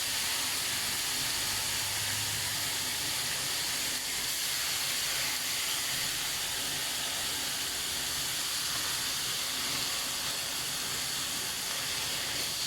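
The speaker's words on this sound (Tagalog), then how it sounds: "Ang pagluluto ng bacon, walang mantika" Bacon cooks in a dry pan without oil, rendering in its own fat with a constant dense hiss that stays steady and close throughout.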